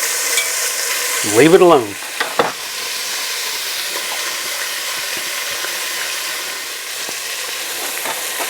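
Pork pieces sear in a hot pan, a loud, steady, close sizzle that runs throughout, with a brief clatter and a short word spoken early on.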